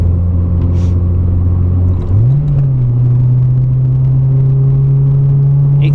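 A Mazda MX-5 Miata MK2.5 engine drones at a steady low hum, then revs up sharply around two seconds and holds a higher, even pitch, loud and close with no talk.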